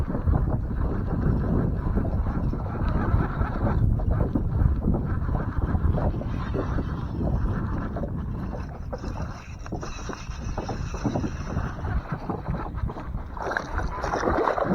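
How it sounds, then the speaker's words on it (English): Steady wind gusting across an open lake from a fishing boat, a continuous broadband rush with faint splashing, loud and close to the microphone, no talk. "it is pretty windy today"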